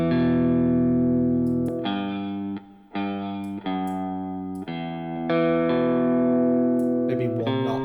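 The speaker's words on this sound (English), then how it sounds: "If you just add a little bit of these overdrives with the drive turned all the way down" An electric guitar in Amplitube runs through two overdrive pedals with the drive turned low, playing a sequence of sustained, ringing chords with light grit and reverb, loud and close with no talk over it.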